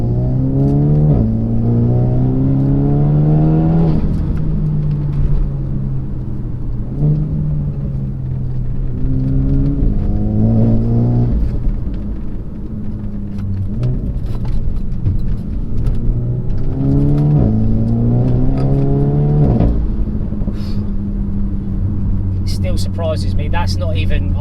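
Renault Megane RS Trophy engine driving through corners, revs rising and falling in repeated sweeps as it accelerates and shifts, loud and close from inside the car, with someone talking over it.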